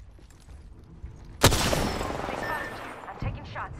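Gunfire in Apex Legends: one sharp, loud shot cracks out, then a sustained wash of rumbling battle noise and a smaller thump near the end, with a voice speaking over it at times.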